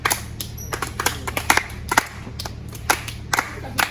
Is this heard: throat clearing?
no